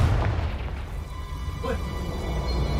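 A Confringo fire blast spell bursts in Hogwarts Legacy, one short muffled boom rising out of a steady low rumble.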